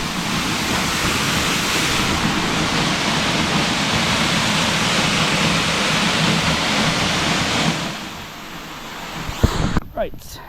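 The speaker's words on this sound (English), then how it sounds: "this is as high as you can go at this waterfall" Steady broadband roar of a waterfall in Niigata, Japan, heard close from its highest reachable point, filling the clip, then easing near the end as a few brief knocks and rustles break through.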